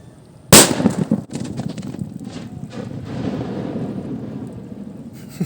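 A single sharp, loud blast from a slow-fuse 25-gram firecracker lit on the ground, followed by scattered crackling debris and a lingering rumbling echo outdoors.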